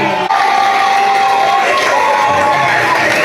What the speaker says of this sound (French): Applaudissez, applaudissez, applaudissez.